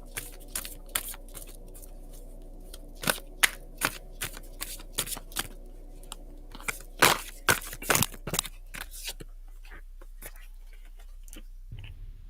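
Tarot cards being shuffled by hand, a close series of crisp riffles and papery slaps in irregular bursts over a faint steady hum, with short quiet gaps between them.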